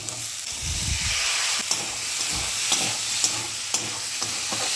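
Spiced peas ghugni sizzles and hisses in a hot pan with boiled peas, turmeric, chili and coriander powder, while a spoon stirs in repeated scrapes and knocks.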